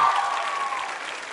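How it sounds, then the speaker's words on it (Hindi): Audience applause at a women's vocational training institute quiz show, a dense steady wash of clapping from a crowd throughout, fairly loud and close, fading slightly toward the end. "और अब बारी है तालियां बजाने की अपने स्वयं के लिए"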